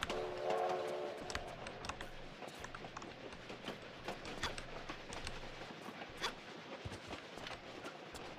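Train in the video game Tomb Raider The Last Revelation, a rumbling rail clatter with a horn-like tone near the start, mid-level and continuous, overlaid by rapid clicking.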